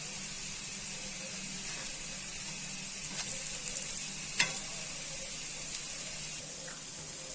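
Palak masala bhajis frying in a pan with a little oil, an even hissing sizzle throughout, broken by a few light clicks and a scrape partway through, no speech.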